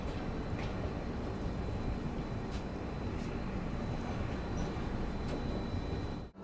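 The Duronto Express, India's longest, running on the Konkan Railway, heard from inside a 3rd AC coach as a steady, loud rumbling roar with faint rattles, continuous until a brief dip at the end.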